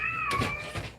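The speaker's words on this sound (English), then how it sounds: "Stop your fighting. Cat fights." Two house cats fight indoors, one letting out a drawn-out, wavering yowl that breaks into a harsher caterwaul, close and fairly loud.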